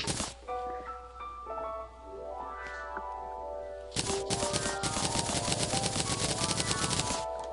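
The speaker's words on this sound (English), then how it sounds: "Machine gun!" A machine gun in the video game Terraria opens up after a few seconds of chiming game tones, firing a fast, steady stream of clipped, rattling shots that continues to the end.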